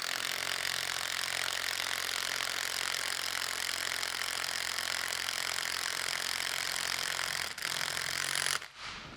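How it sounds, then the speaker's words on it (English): An impact wrench runs a top mount nut down on a coilover race damper, a steady, buzzy, rapid hammering that continues for about eight and a half seconds before cutting off abruptly, with no talk. "we're going to run the nut down carefully with the impact"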